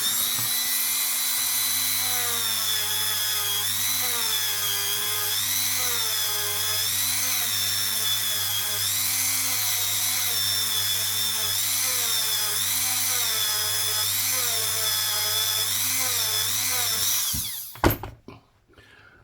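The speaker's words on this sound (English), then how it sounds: "Take the Dremel." A Dremel rotary tool grinds a 1984 Austrian 20 Schilling coin being shaped into a ring, a loud close high-pitched whine wavering in pitch as the load changes, running steadily before cutting off with a clatter near the end.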